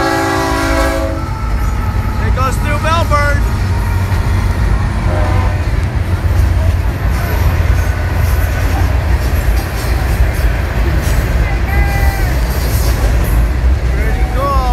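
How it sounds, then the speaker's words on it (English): A train rolls through downtown Melbourne, its steady loud rumble and clatter filling the scene, with a horn-like tone near the start; someone talks over it. "Here guys, this is the train."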